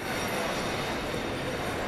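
Steady, continuous rumble of a train at a railway station in Italy, a broad even roar of rolling wheels and machinery with no distinct clatter or voices on top.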